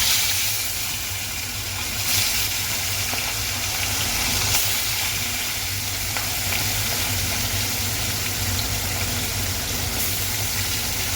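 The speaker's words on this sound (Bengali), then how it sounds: "এবার মাছগুলো ভাজা দিয়ে দিই।" Parshe fish frying in hot oil in a wok give off a loud, constant sizzle and hiss with a few faint clinks. The sound is close and steady throughout, and no one speaks.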